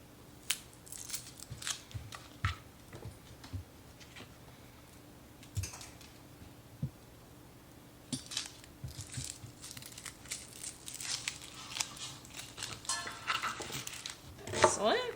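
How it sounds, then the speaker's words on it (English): A knife dices an onion on a cutting board in a home kitchen, a faint, irregular run of short chopping taps that grows busier and denser toward the end, with a low steady hum behind it. "I'm just going to quickly dice up an onion."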